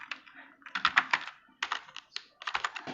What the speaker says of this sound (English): I'm going to type here some information